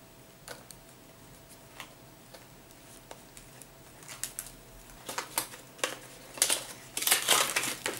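Unwrapping a The Balm makeup palette: scattered plastic crinkles and small taps, sparse at first and growing busier and louder toward the end, close by with no talking.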